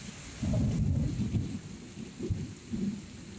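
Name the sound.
thunder and heavy rain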